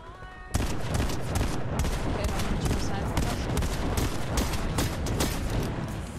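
A dense, continuous volley of gunshots from the battle royale game Fortnite, many overlapping cracks and mechanical clicks piling up at a steady, fairly loud level after an abrupt start.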